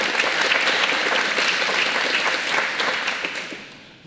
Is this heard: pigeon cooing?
no